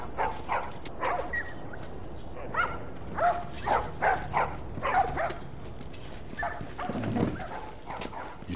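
Dog in The Last of Us game barking in a series of short yips and barks, fairly close, with whimpers and some background noise between them.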